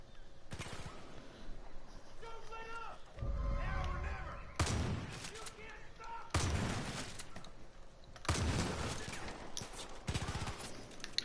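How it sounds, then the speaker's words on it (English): Gunfire in Far Cry 5 comes in repeated loud bursts of rapid automatic fire and heavy blasts, separated by quieter gaps with people talking. "Who are they shooting at?"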